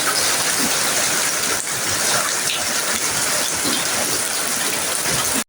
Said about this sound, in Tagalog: Buti nga medyo humina ang ulan ngayon.